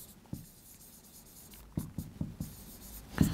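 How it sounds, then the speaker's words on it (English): A pen scratches out a physics formula on a surface, a few quick separated strokes and taps, close and clear in a quiet room with no talk. "let me write that for you"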